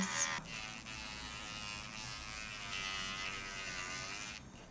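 A Bestidy electric nail file buzzes steadily against thick gel nails, a quiet, continuous motor whine held close with a faint start and stop, no talking.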